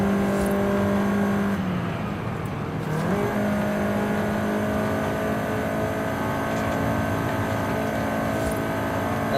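A 2014 Volkswagen Golf R engine revs hard while driving, bouncing off the rev limiter, with a loud continuous drone and a brief dip in pitch as the revs drop and climb again.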